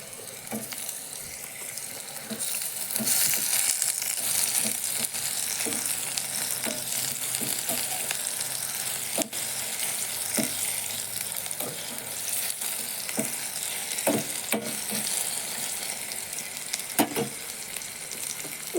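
Tomato frying in a pan while cooking okra, a steady close sizzle that runs throughout, broken by occasional sharp crackles and the clicks of stirring.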